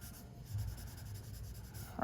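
A pencil drawing on paper is blended with a blending stump, making a soft, continuous scratchy rubbing close to the microphone, steady throughout with a slightly louder stroke at the end.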